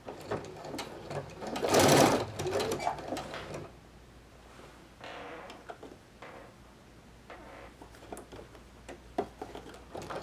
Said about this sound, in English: I'm going to put my foot over the first pin and start sewing.